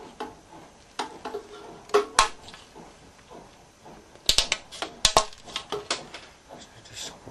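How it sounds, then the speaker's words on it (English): Scissors snip through material while a koncovka overtone flute is being made, giving a scattered series of close, sharp clicks and crisp cuts, with a louder cluster of snips near the end. "Again, I'm using scissors."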